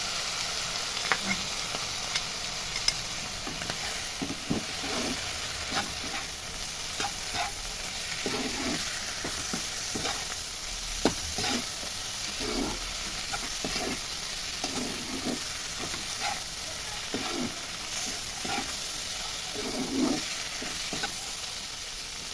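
Small prawns fry in a pan with a steady sizzle. Repeated scraping stirs sound at a regular pace over the hiss, with no talking.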